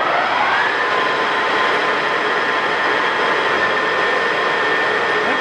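A Kingston HR 6000 heavy-duty lathe, 40 by 240 inch, runs steadily at 800 RPM, giving a continuous, fairly loud mechanical whine and hum with a faint steady tone, unbroken and without voices.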